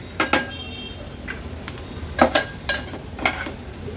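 Turmeric and homemade Agri Koli masala sautéing in hot oil in a pan, with a soft sizzle under a series of close metallic spoon scrapes and clinks as the spices are stirred, no voices.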